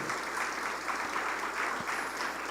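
A church congregation applauds during a sermon, a continuous wash of clapping from many people, steady and fairly loud over the short stretch.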